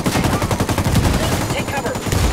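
Rapid gunfire from a shooter video game, Ghost Recon Wildlands, rattling loud and continuous for a couple of seconds with dense overlapping shots and a voice shouting beneath.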